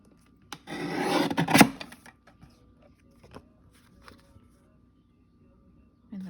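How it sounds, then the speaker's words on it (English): A paper tag's edge is trimmed in one close rasping cut lasting about a second, followed by a few soft taps and rustles in a quiet room. "I see this side over here needs trimmed."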